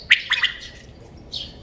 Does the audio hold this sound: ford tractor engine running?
no